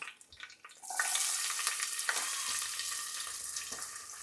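Curry leaves and onion hit hot oil in a pan and burst into a loud, close sizzle that stays steady, with faint stirring scrapes beneath it.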